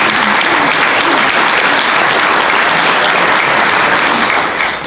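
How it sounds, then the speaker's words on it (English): A roomful of Kiwanis club members at a meeting applaud their guests, loud continuous clapping from a crowd that stays full and even, fading a little only at the very end. "let's give a warm round of applause to all of our guests."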